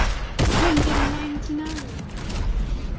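A few sharp bursts of gunfire in a Fortnite 1v1 fight, close and loud, with a sustained tone and a voice speaking over part of it.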